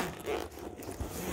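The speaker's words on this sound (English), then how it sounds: "It zips open." A zipper on a small Christmas gift bag being pulled open in one short, close, scratchy zip, alone without talk.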